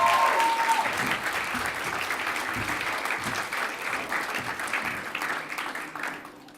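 Audience at a university awards ceremony gives a hearty round of applause, starting strong and continuing as steady clapping before gradually thinning toward the end.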